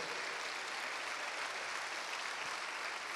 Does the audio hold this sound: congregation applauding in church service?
yes